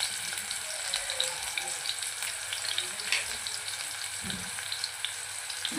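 Onions with salt and turmeric sautéing in a pan for a village-style mutton dish, a steady close sizzle and fry hiss throughout with a few soft stirring knocks, no voices.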